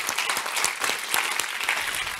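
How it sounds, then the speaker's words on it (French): Audience applause at a European day conference closing session, a brief burst of dense, even clapping filling the room. "On peut les applaudir"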